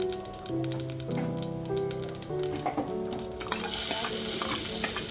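Chopped onions drop into hot oil with popped mustard seeds, giving a rising sizzle with scraping stirs and clinks of a ladle against the pan, the frying hiss swelling loudly near the end.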